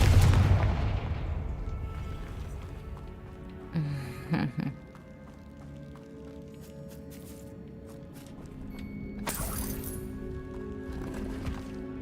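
Confringo spell blasts in Hogwarts Legacy burst with a loud booming explosion at the start, then a couple of sharper crackling hits and fading magical rumble amid game ambience.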